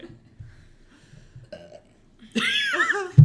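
A long, loud, croaking burp rumbles out for nearly a second after some faint murmuring and small mouth noises.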